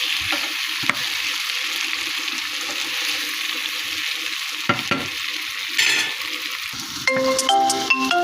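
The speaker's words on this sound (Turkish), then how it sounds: "Biraz da böyle kavuruyorum" Tomatoes and garlic sauté in a pan for an erişte noodle dish, giving a loud, steady sizzling hiss with brief stirring scrapes, then a few bright tonal clinks near the end.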